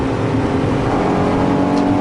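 A 1999 Acura Integra engine revs steadily upward in third gear, a loud continuous mechanical drone heard from inside the car, with no talking.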